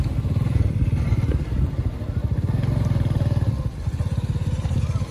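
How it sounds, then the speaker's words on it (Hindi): A motorcycle carries riders through a Pakistani village, its engine putting out a steady, close, rhythmic putter with light rattling and clatter. Nobody speaks. "हम जा रहे हैं बाइक पे दूसरे घर"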